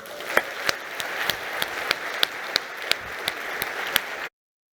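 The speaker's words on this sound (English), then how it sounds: "we really need to give her now a very, very warm round of applause" A warm round of applause from the audience at the International Chemistry Olympiad ceremony, steady crowd clapping with sharp individual claps popping out, continuing for about four seconds before cutting off.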